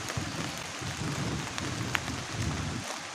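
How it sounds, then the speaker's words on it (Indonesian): Heavy rain drums steadily on a camping tent during a dark thunderstorm, a dense, continuous close patter with occasional sharper drop hits and no voices. "Hujannya deras."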